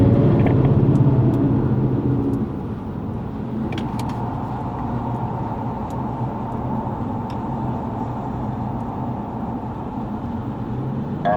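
Lexus GS450h hybrid sedan lapping Yongin Speedway, a steady rumbling road and engine noise with tire roar that eases slightly after a couple of seconds and then holds constant, close and continuous, with no talking.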